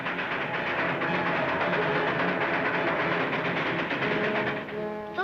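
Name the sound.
train running on rails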